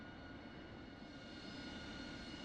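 Aircraft engines run up near a Harrier jet in a VR flight simulator, heard as a faint, steady, distant droning hum with a thin tonal whine layered on top.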